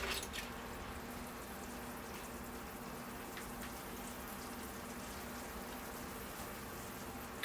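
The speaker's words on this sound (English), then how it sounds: "I can give the planting a watering now. So here I go with the water." Water poured over freshly repotted larch bonsai trees, a steady close splashing and trickling hiss that runs evenly for the whole stretch without pause.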